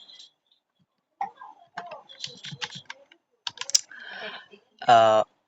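A name being typed on a computer keyboard in bursts of quick close key clicks, separated by pauses, ending in a louder clack.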